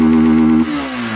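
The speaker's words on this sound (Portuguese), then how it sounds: "O que você liga a moto, ela faz um barulho diferente, porque tá sem o mangote." A Honda Fan 160 motorcycle engine idles with its intake hose removed, a steady harmonic drone that drops in pitch and loudness partway through, close and alone.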